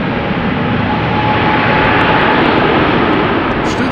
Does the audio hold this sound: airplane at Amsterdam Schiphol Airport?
yes